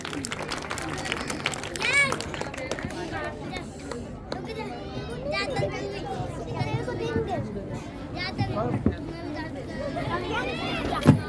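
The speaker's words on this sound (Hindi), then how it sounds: "एक बार जोरदार तालियां हो जाए नायरा के लिए।" Audience clapping for a young child performer at a school Republic Day celebration, scattered applause mixed with crowd chatter and children's voices, moderately loud and continuous.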